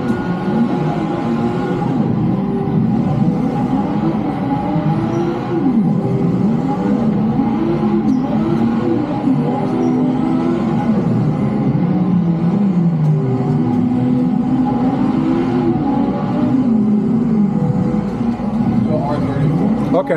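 A car engine drifting in a racing simulator game, a loud continuous droning roar with pitch sliding up and down as revs rise and fall, heard throughout with people talking over it.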